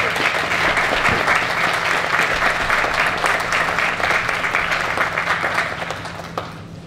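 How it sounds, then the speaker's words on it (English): Audience applause at a 2023 ribbon-cutting ceremony for the Fabrica Lofts in Lawrence, a steady wash of many hands clapping that holds for several seconds and then fades slightly at the end, with a low hum underneath. "That is an applause line, folks"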